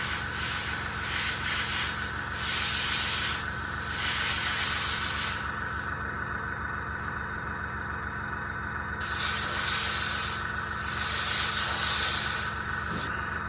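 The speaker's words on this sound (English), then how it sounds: "This Tamiya lacquer sprays beautifully." An airbrush spraying Tamiya LP14 Maizuru Arsenal lacquer top coat onto a 1/200 scale IJN Mikasa model: a close, steady hiss in two long bursts separated by a quieter pause of a few seconds.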